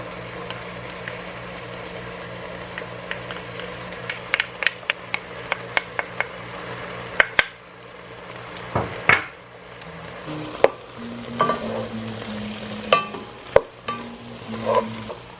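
Garlic and red onions cook in a pot for pork rib sinigang, with a continuous low sizzle under irregular sharp knocks and scrapes of a utensil against the pot, and no talking.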